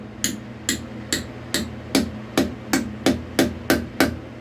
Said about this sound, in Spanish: con el martillo que tengas vas a hacer esto